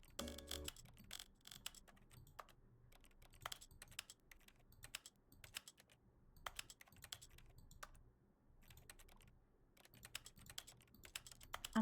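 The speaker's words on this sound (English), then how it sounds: "I'm liking this keyboard ASMR." Rapid, steady typing on a computer keyboard, crisp key clicks in irregular bursts with brief pauses, close and clear with no talking.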